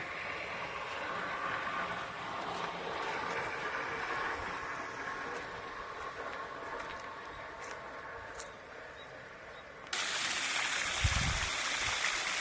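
Steady, loud rush of water gushing from a borewell at about 2.5 inches of flow, pouring out with no pause, growing heavier and fuller near the end.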